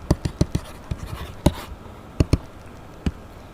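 Hand writing out a physics solution, a series of short, sharp pen taps and strokes, clustered quickly at first and then spaced out, close and fairly distinct against a quiet background.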